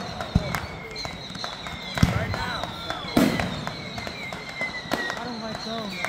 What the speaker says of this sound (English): They always put on one of the best fireworks shows, Vic.